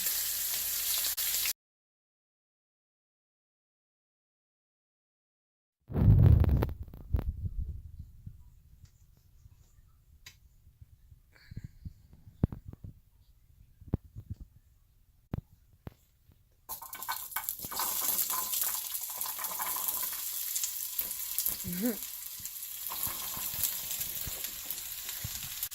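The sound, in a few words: short ribs searing in a pan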